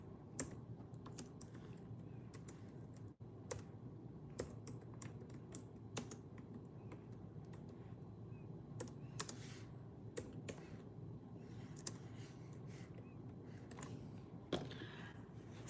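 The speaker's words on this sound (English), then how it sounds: "I can't type." Steady typing on a computer keyboard, a fast run of soft, close key clicks with a few sharper taps, heard alone with no talk over it.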